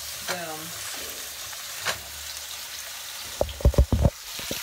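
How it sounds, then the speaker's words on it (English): Hot oil sizzles steadily at close range in a kitchen pan, then a quick cluster of sharp popping spatters breaks out near the end. "Hot oil. Always point away from you. Love that sound."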